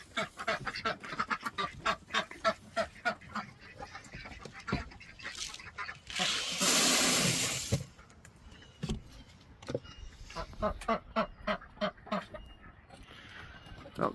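Ducks quack repeatedly in rapid bursts at a backyard poultry coop in the morning, close and fairly loud, broken by a short burst of hissing noise in the middle, with chickens mixed in.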